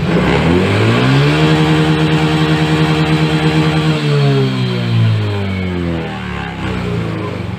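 A Yamaha Mio J motorcycle engine revs hard at full throttle after a sensor fix, holding a loud rising whine for about four seconds before dropping back and easing off, close by with no talking.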